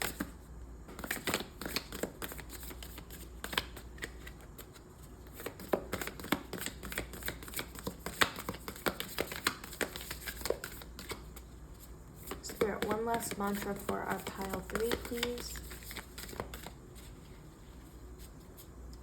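Tarot cards shuffled by hand during a card reading, giving a dense run of crisp riffling flutters and soft slaps that cuts in and out under near, steady talking.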